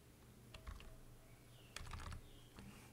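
Typing on a computer keyboard, faint clusters of quick clicking keystrokes in short bursts with pauses between, over a quiet low background hum.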